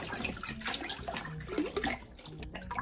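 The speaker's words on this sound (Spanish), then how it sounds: "Voy a echar 4 litros más de agua" Four litres of room-temperature water poured into a large basin for homemade liquid soap, a continuous splashing gush at moderate volume.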